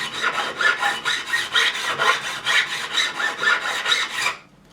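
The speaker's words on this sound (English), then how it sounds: "I'm going to then take a crowning file, a bit more coarse, but it's already got the groove in there, and we're just going to round it over" A coarse crowning file rasps back and forth over a guitar fret on a Fender Strat refret, about a dozen rhythmic strokes in close succession, crisp and near, ending abruptly in quiet.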